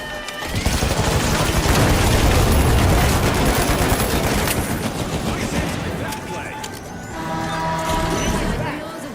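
Loud, continuous video game gunfire with rapid bursts and booming blasts fills the scene, dense and chaotic for most of the stretch before easing slightly near the end.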